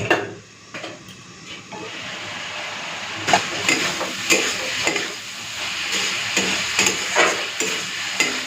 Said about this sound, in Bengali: তাই চলো এই কড়াইতে আমি পমফ্রেট মাছটা ভেজে নিই।